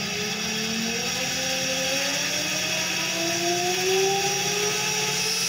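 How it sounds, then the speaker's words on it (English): An electric machine runs steadily during a voltage test at 150 volts, a constant mechanical drone with a motor whine that rises slowly in pitch, loud and close, with no talking. "The machine starts running. Okay, the machine is running."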